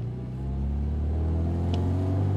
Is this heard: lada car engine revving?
yes